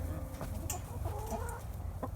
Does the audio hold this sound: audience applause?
no